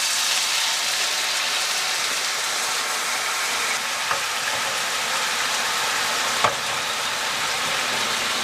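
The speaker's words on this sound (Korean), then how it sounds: "아까 우리가 준비했던 소스를 이 상황에서 넣을 거야." Teriyaki sauce poured into a frying pan over medium heat with chicken for yakitori gives a loud, steady, hissing sizzle. It continues evenly throughout, with a couple of faint clicks from the pan.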